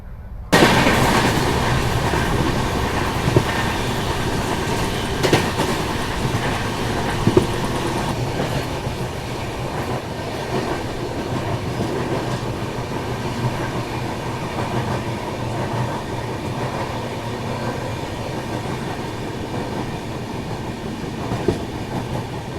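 From an upper berth inside a non-stop express train, a steady carriage rumble and rhythmic clickety-clack of wheels over rail joints continue evenly, with occasional sharper knocks and no speech.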